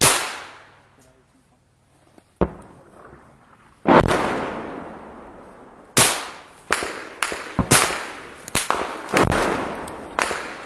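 On a trench battlefield, a sharp blast opens a series of about a dozen loud explosions and gunshot-like cracks, each ringing out with a long echoing decay. The reports come at irregular intervals and cluster more densely toward the end.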